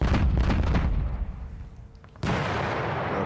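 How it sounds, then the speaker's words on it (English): Artillery fire striking units in the Middle East 67 wargame, a dense burst of booming impacts and crackling blasts that fades, then a sharp new explosion rumbles on steadily to the end. "we've been hit by artillery"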